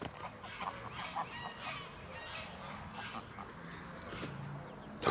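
A crowd of geese honks at a boating marina on the Norfolk Broads, scattered overlapping calls at moderate distance over a steady outdoor background, with no one speaking.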